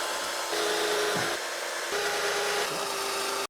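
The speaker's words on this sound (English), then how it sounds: "Then the fun part of drilling all the 6 holes began." A power drill with a diamond tile bit grinds into shower tile, giving a steady, loud, close whine with slight dips in pitch as the bit bites.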